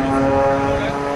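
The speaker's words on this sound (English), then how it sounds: "flying the Air Guard Extra 300L" Droning propeller engine of an Air Guard Extra 300L aerobatic airplane performing at a military air show, loud and steady for the whole moment while an announcer speaks over it.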